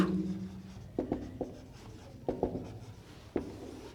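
Marker or chalk strokes on a board while derivative equations are written out, a few separate scratchy taps and short rubs at a moderate distance against a quiet room.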